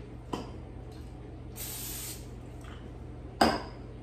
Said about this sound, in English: let's spray the air fryer basket with a non-stick cooking spray